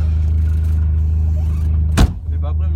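A turbocharged Citroën BX engine idles while warming up, a steady low rumble close by with a brief sharp knock or clunk near the end, as people speak quietly inside the car.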